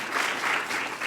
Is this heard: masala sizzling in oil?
no